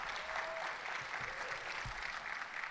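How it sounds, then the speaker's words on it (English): Convention attendees at an LGBTQ+ caucus applaud, giving fairly faint, steady clapping that sounds a bit distant, with a few low thumps mixed in. "So, yes, you can applaud that."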